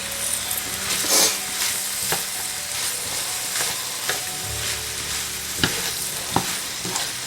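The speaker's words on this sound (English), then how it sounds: "Add all of those mushrooms to that pan." Mushrooms sizzle and fry in a pan with butter, a steady crackling sizzle broken by occasional sharp scrapes and taps of a stirring utensil.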